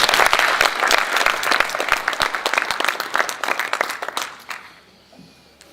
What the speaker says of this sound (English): So, round of applause for Mayor.